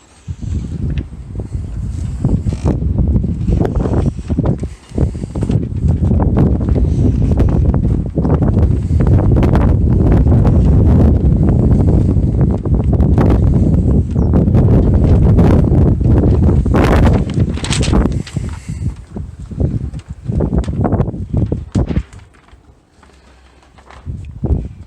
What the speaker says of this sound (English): It's a little windy today, so I apologize for that.